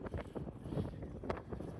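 Wind gusting across open Gobi desert, buffeting the microphone in a steady rough roar with surging swells, close and fairly loud throughout, with no voices.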